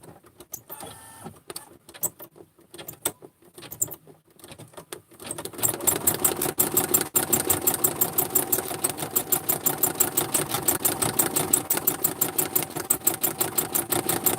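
A home embroidery machine sews a single running stitch on a mare's leg pistol design. It starts with sparse, faint clicks, then settles into a loud, fast, even mechanical chatter that runs to the end.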